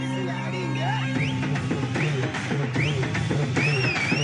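A stadium crowd cheering for Chennai Super Kings lets out several rising, sweeping whistles over a loud, busy wash of voices and cheering.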